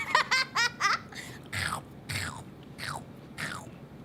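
Sour candy is bitten and crunched, giving a quick run of sharp crunches and then several spaced chewing bites, close to the ear. Light laughter-like sounds blend in.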